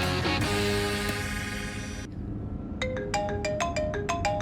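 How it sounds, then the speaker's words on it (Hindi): A mobile phone rings with a sustained melodic ringtone, then after a brief lull a run of sharp, repeating electronic chime notes, clear and close with no talking over it. "ये ले, तेरा फोन बज रहा है।"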